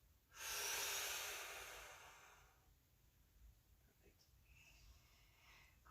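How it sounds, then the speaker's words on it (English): One long, soft exhale during a balance and stretching class rises quickly and fades out over about two seconds, close to the mic, then a quiet room follows with faint small sounds. "Exhale."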